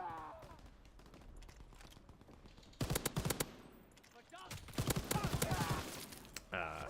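Automatic gunfire in a Call of Duty match, with two dense bursts of rapid shots cutting through game sounds. A voice talks quietly underneath.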